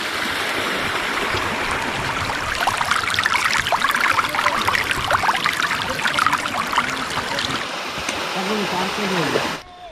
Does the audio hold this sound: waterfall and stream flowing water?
yes